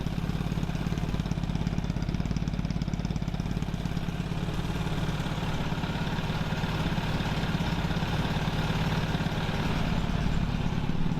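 A 2000 Suzuki Katana 750 motorcycle engine idling steadily around 1,000 RPM, an even, close, continuous rumble with no missing or sputtering, heard alone without talk.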